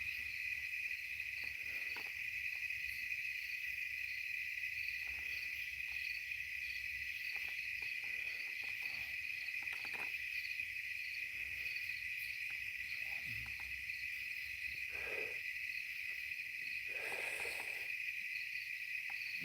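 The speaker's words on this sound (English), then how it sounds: "The bugs are a little quieter tonight." Crickets and other night insects on a farm keep up a steady, even high chirring, unbroken and moderately faint, with a few soft background noises and no talk.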